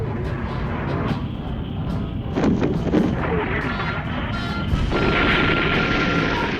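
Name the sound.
cartoon gunfire and explosions, Transformers attack on aircraft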